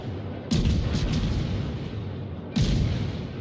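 Two heavy booming shots sound in a video game, about two seconds apart, each a loud, low blast over a constant rumbling background, with no talk.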